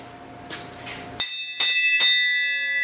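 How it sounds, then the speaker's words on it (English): A bell rings three times in steady succession, bright and clear, each strike leaving a long shimmering ring that fades slowly; a quieter hum sits underneath before. "ring the bell"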